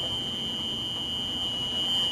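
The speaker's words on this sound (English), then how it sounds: "And you hear that alarm." A school bus door alarm buzzer sounds during a pre-trip inspection, a steady, loud, continuous electronic tone held for the full couple of seconds over a low rumbling background.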